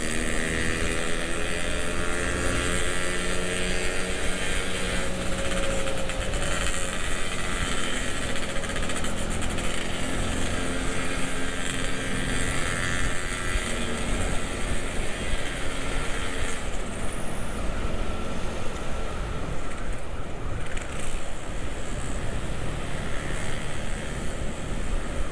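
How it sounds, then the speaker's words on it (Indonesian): Engines roar along a busy city street at night, a dense continuous rumble of loud motorcycle exhausts passing and revving around the rider, with no speech. "Berisik arjengnya guys. Arjengnya berisik banget dah."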